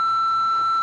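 An answering machine's single electronic beep sounds at the end of its greeting: one steady, clear high-pitched tone lasting just under a second, with nothing else audible.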